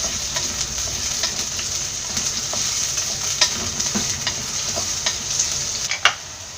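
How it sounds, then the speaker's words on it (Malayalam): Shallots, ginger, garlic and curry leaves sauté in a pan for a Kerala mackerel fish curry, giving a steady close sizzle and frying hiss with occasional stirring clinks and scrapes throughout. "ഇത് ചെറുതായിട്ടൊന്ന് വഴറ്റിയെടുക്കാം."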